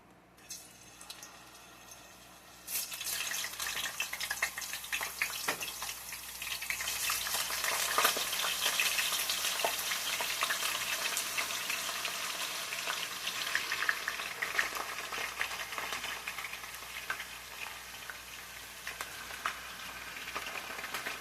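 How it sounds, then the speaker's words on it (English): French fries cut from three big potatoes hit hot oil in a skillet, breaking into a loud, steady sizzle and bubbling that swells and holds, close by. "this skillet, let's get our french fries in it"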